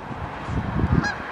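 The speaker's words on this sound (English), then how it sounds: "Oh, look at that, geese." A flock of geese flying overhead outdoors gives a brief burst of honking: a few calls climb out of a steady low background and peak near the end, moderately loud and without talk.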